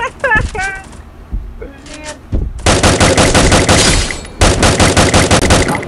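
Rapid automatic gunfire bursts from a shooter video game, loud and close, in two sustained volleys after a few brief single shots, with players talking over it at the start.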